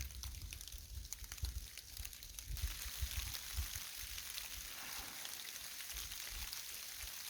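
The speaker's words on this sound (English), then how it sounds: "Here comes the rain." Rain falls steadily through deep woods during deer season, a dense, even patter with a soft hiss that holds throughout at low to moderate level, and no voices.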